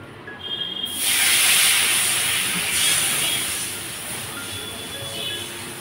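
Water poured into a hot pan of Bengali fish curry gives a sudden loud hissing sizzle that bursts up after a second, then slowly fades to a steady softer hiss, close by, with no talk.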